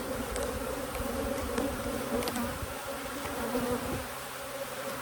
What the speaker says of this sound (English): Y'all look at these bees. So many.